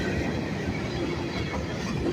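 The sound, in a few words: Norfolk Southern freight train passing at night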